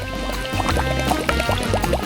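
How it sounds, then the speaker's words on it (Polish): Sausages dropping into a pot of hot water on a home stove, giving soft splashes and watery gurgles over a low steady background hum, close and fairly loud, with no one speaking. "A teraz wrzucamy parówki do garnka z gorącą wodą."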